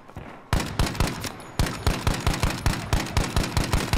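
Battlefield 2042 gunfire comes as a sharp opening shot, then a second shot, then a rapid evenly spaced string of about a dozen loud, punchy reports.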